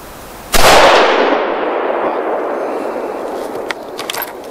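A single loud, close rifle shot from a HEYM Ruger No 1 fired from a shooting bench, its sharp crack followed by a long rolling echo that fades slowly over several seconds outdoors.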